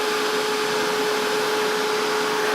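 A dryer blows steadily on Christmas craft work, with a constant loud whooshing drone and a faint whine, unbroken and with no talk.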